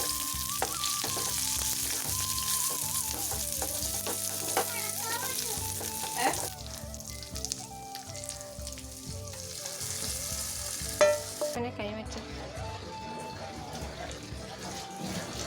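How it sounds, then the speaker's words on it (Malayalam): Raisins and cashews fry in ghee for payasam, giving a steady close sizzle with stirring that runs under background music throughout. "പായസത്തിലേക്ക് ആവശ്യമായിട്ടുള്ള കിസ്മസും അണ്ടിപ്പരിപ്പും കുറച്ച് നെയ്യ് ഒഴിച്ചിട്ട് നമുക്ക് വറുത്തെടുക്കാം."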